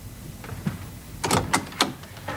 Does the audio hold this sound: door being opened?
yes